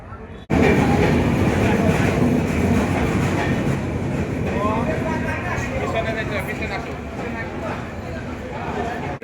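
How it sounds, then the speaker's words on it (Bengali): A train pulling into a station, a loud, close rumble of wheels and cars that starts abruptly and continues steadily with rhythmic clatter and some squeal, voices mixed in. "এখন আমরা শুধু দেখেন ট্রেন আসতেছে।"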